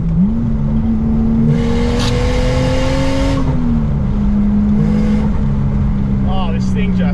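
A car with a Toyota 1JZ-GTE engine drives through hills, heard from inside as the engine drones and climbs in pitch under acceleration, then eases off before revving again, with a voice speaking over it.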